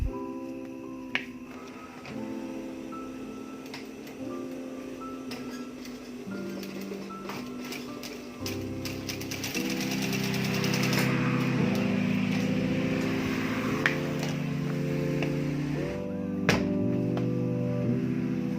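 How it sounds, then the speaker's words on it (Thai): A sewing machine stitches the edge of a handmade leather sandal, running in steady mechanical bursts that grow louder and denser midway, with no talk. "ขอบเสร็จก็นำมาเย็บนะครับเย็บขอบเลยนะครับ"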